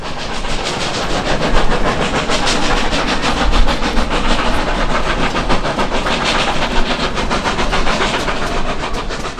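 Steam locomotive of the Cumbres & Toltec line working hard up the grade to Cumbres Pass, loud rapid exhaust chuffs in steady rhythm over continuous rumbling wheels and rail clatter, close and dense throughout with no talk.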